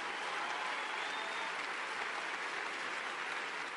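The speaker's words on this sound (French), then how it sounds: "Les candidats déclarés à la primaire applaudissent très mollement" Sustained, steady applause from an audience following a political speech, a dense even clatter of clapping that holds at constant loudness without voices on top.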